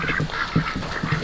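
Farm ducks quack in quick repeated nasal calls, several birds close by, busy and overlapping in a short burst.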